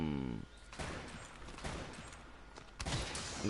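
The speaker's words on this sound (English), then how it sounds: "I just fired a bunch of different ammos" A bowgun in a video game fires several different ammo types in quick succession, each shot giving a loud sharp burst or crackle close to the listener, with brief gaps between shots.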